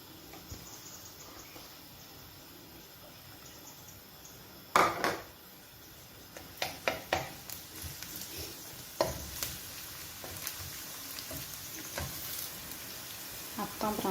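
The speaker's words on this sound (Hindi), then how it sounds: "आप ब्राउन करांगे गार्लिक में।" Garlic fries in a pan as a tempering for broccoli pasta: a faint sizzle with sharp clattering stirs and scrapes that start suddenly partway through and recur irregularly, fairly close.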